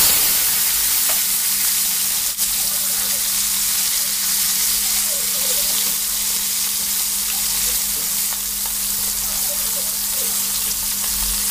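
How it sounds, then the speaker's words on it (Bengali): Washed, cut cauliflower florets fry in hot oil with a little salt and turmeric, producing a steady, dense bubbling sizzle that stays constant and close throughout, with only a faint clink or two. "ধুয়ে ও কেটে রাখা ফুলকপিগুলো আমি লাল লাল করে ভেজে নেব"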